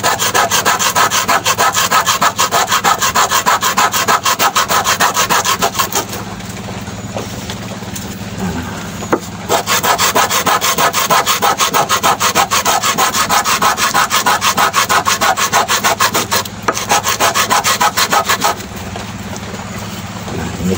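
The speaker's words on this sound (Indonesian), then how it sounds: "sekarang kita amplas ini ya dasarannya biar rata guys" Steady, continuous rasping of sandpaper rubbing back and forth across bamboo, loud and close, with a couple of brief pauses before resuming.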